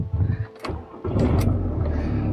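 A VW T4 van engine cranks and catches, then settles into a steady, fairly loud idle that continues to the end.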